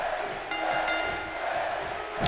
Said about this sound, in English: The crowd firmly behind Becky, with chants of Becky to start off the match.